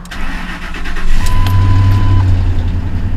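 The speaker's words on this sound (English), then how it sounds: "So here we go with the first crank on the truck that's been sitting for a month." A truck that has sat unused for a month cranks and fires up, its engine catching into a loud, slightly rough idle that carries on steadily, heard alone at close range.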